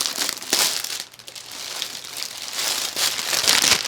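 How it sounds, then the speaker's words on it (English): Plastic packaging crinkles and crackles loudly up close in irregular bursts, with no talking. "sorry about the loud plastic noise"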